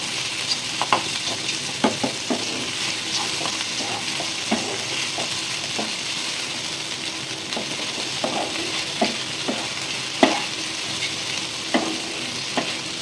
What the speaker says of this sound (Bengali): ডিমটা পাস্তার সাথে মিশিয়ে নেবো।